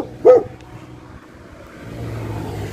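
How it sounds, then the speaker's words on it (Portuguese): One short, sharp dog bark at night, near the catching of puppies, is followed by a low, steady background rumble. "O cachorro queria me pegar aqui."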